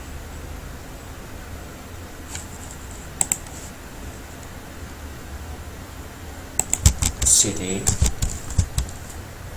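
Keystrokes on a computer keyboard while commands are typed into a terminal, a few scattered clicks early on, then a denser burst of typing near the end, with a voice talking over it.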